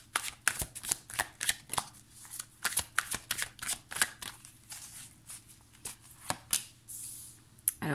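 Tarot cards being shuffled by hand, a steady run of crisp papery riffles and flicks with short pauses, close and fairly quiet with no talking.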